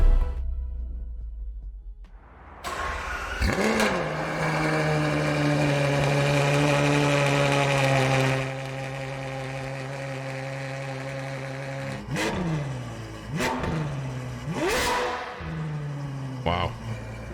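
A Ferrari 812 V12 road car fires up and holds a loud, high, smooth idle, then barks through several sharp throttle blips with rising and falling revs, heard close and without talk.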